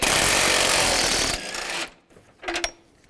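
An impact or power tool zips off 15mm bolts on a 2006-2011 Cadillac DTS during radiator replacement, a loud continuous buzzing whir for over a second, then a pause and a short second burst.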